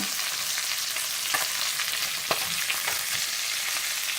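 Chicken sears in a pan for chicken mole, a steady close sizzle with occasional sharper pops and crackles and no talk.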